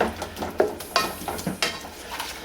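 Veggie mince frying in a pan is stirred with a utensil, giving a steady sizzle broken by repeated scraping and clinking strokes against the pan at an irregular pace, close and fairly loud.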